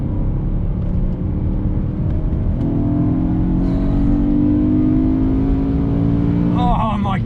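A BMW E92 M3 pulls hard on an open road, its engine note climbing steadily and loud from inside the car before a quick gearshift near the end.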